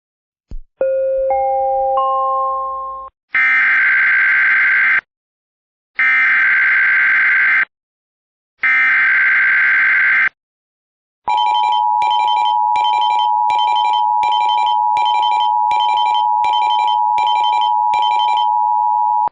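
Rising three-note chime, then three long buzzing alert blasts with gaps, followed by a steady high warning tone pulsing rapidly for several seconds; loud and electronic, from a NOAA All Hazards weather radio warning alarm being tested.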